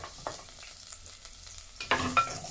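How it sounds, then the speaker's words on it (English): Ginger goes into a hot pan for seafood pasta, bringing a faint close sizzle followed by a louder burst of frying and stirring near the end of a short, quiet stretch. "Next na ilalagay natin ay ang ginger. Next is the ginger."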